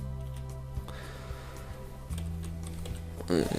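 Keys clatter on a computer keyboard as a Minecraft command is typed, quick soft clicks close by over a steady electronic hum, with a short louder burst near the end.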